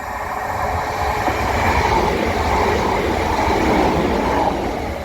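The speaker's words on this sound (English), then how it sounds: "there was indeed a train coming" A train approaches on a rural British railway line near a little-used station, a steady loud rumble and clatter of wheels filling the whole stretch with no voices.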